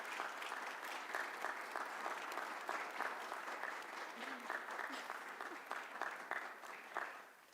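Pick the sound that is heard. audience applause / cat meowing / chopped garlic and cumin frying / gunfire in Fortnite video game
audience applause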